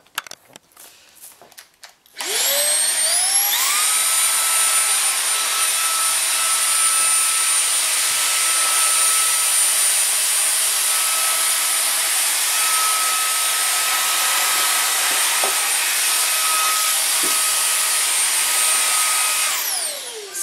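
A Cecotec Rockstar 500 cordless vacuum cleaner switches on after a few clicks and runs with a steady, loud high-pitched whine and airy rush, then spins down at the end.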